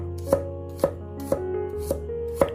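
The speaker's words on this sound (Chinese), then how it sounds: "然后直接剁成蒜末。" A kitchen knife mincing garlic on a board: five sharp, evenly spaced chops about half a second apart, loud and close, over a steady musical background.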